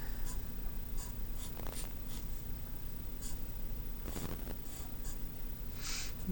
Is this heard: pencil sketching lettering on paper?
yes